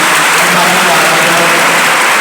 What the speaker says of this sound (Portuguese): Se você crê, pode aplaudir, que a vida desse irmão está assim.